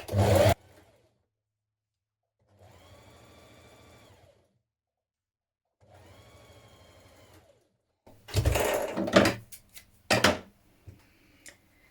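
Domestic sewing machine sewing a seam on a top with a stretch or zigzag stitch, two short steady runs of motor whir separated by silence, framed by louder handling clatter and fabric rustle at the start and end.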